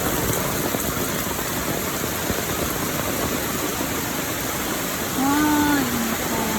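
Water running straight through on a rainy morning, a loud, continuous broadband rush like rain or a steady flow, with a brief tonal hum or engine-like whine entering near the end.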